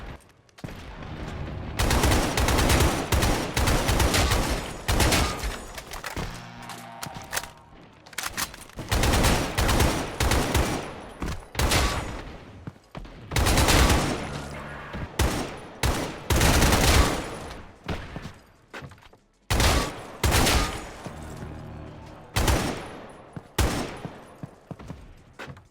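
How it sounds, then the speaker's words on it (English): Rapid gunfire from an FPS shooter in the Roblox game Games Unite Testing Place, loud sustained bursts of automatic and repeated shots with brief pauses between volleys. "Games Unite Testing Place is another fun FPS shooter with a lot of fun guns."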